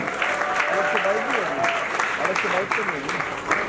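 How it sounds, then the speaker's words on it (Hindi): A crowd applauds steadily throughout while a person speaks loudly over the clapping. "एक बार जोरदार तालियां"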